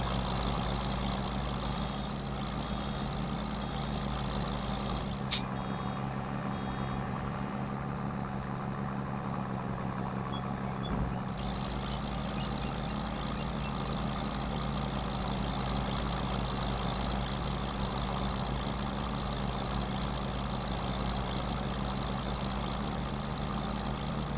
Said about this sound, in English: this MB track sounds amazing, Schultz. Absolutely amazing. I love the sound of this tractor